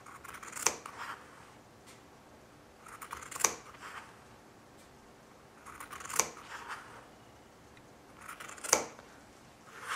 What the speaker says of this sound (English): So just cut straight in.